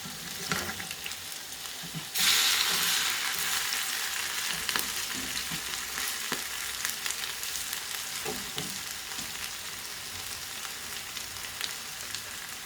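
Grated potato rösti galettes fry in a hot pan with a steady, dense crackling sizzle that jumps louder after a couple of seconds and then continues evenly throughout.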